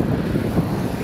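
Strong wind blowing hard across a microphone at the seaside in Kanyakumari during a cycle ride, a loud continuous low rumbling roar with no break.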